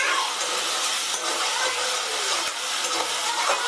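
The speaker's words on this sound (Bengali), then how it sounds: "এবার সমস্ত মশলা আমি খুব ভালো করে কষিয়ে নিচ্ছি।" Spice paste for jackfruit muitha being sautéed in a pan, a loud close continuous sizzling hiss with soft scraping of the spatula, steady throughout and no voices.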